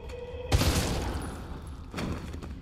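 Gunfire in Resident Evil 3 gameplay: a sudden loud shot with a booming thud, a ringing tail, then a second fainter burst near the end.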